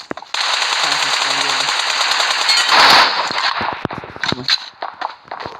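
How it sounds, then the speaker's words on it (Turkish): Rapid automatic gunfire in the battle royale game PUBG Mobile on the Livik map, a sustained loud burst of shots with a sharper close volley in the middle, then scattered single shots trailing off. "Adamın nereden sıktığını bilmiyorum. 2-3 tane adam sıktı ya."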